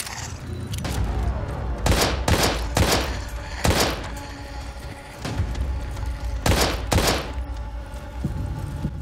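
Gunshots in the survival horror game Daymare: 1998, a handful of loud, sharp booming shots spaced irregularly over game ambience, each with a short thudding tail, close and punchy.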